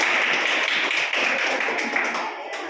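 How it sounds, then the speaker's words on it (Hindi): A school class applauds for the girls of grade 8 in a classroom, a dense, steady patter of many hands clapping close by for nearly three seconds before easing slightly at the end. "ताली बजाओ लड़कियों के लिए सब"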